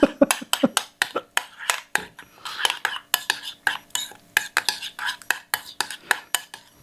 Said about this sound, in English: we're gonna mix this up to combine till it looks like secret sauce